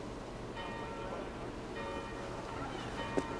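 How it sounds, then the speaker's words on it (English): Church bells toll in the background of a game scene in Assassin's Creed Valhalla, a faint steady ringing layered under low ambient rumble, with a brief sharp tap near the end. "Do you not hear the bells?"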